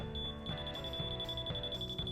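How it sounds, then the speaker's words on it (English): A laser level receiver gives a high-pitched electronic beep repeated in a fast steady pulse, heard over a background of low hum and room noise, with no talking. "when you hear that high-pitched beeping, I'm right on"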